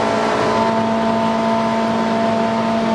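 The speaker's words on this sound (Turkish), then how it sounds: "5. viteste devir kese kese" A car engine held at the rev limiter in fifth gear, a loud steady high-revving drone that stays flat and continuous with no pauses, close to the microphone.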